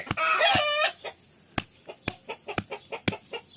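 Chickens clucking close by, a burst of harmonic squawking at first, then a steady run of short, rhythmic clucks.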